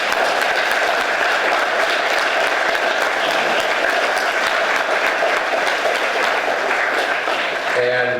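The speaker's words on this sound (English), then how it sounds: "Let's give them all, please, another round of applause." Sustained, loud applause from a school veterans recognition assembly audience, a dense continuous roar of clapping that holds steady before tapering at the very end.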